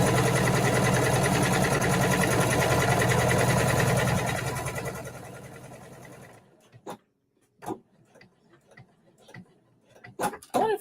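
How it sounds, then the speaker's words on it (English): A sewing machine stitching a Butterick 6901 vest runs in a steady continuous whir, then stops, leaving a few sharp clicks and small handling knocks in a quiet room. "I wonder if I was supposed to stitch all the way to the end."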